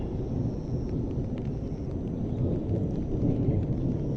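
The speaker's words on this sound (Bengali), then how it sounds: "এখনো মেঘ ডাকতেছে আর গুড়ি গুড়ি বৃষ্টি হইতেছে।" Low rolling thunder rumbles continuously under a soft patter of light rain over farm fields in the early morning, moderately faint and steady with no voices.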